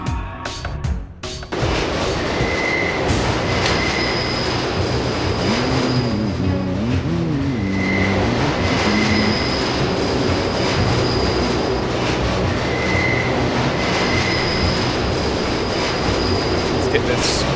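A train in the video game Deus Ex, at Battery Park, gives a steady, continuous rail rumble with faint recurring squeal-like tones, holding evenly throughout after a brief choppy start.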